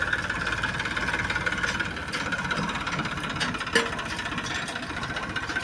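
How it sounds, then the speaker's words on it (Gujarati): A tractor engine runs steadily on a farm during castor crop work. It gives a continuous mid-pitched mechanical drone with faint rattles, and one sharper clank is heard partway through. No talking is heard. "ટ્રેક્ટર આવી ગયું છે, ફોરો ખવાઈ ગયો છે"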